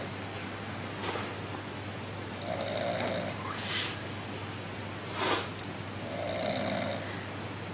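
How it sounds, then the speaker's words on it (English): A sleeping person snores at night, quietly and close by: slow, rhythmic rasping breaths repeat against steady background hiss, with a couple of faint snorts or rustles between them and no talking. "I've just had to describe your snoring."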